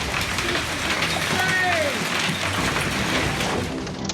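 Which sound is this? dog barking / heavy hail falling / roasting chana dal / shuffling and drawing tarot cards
heavy hail falling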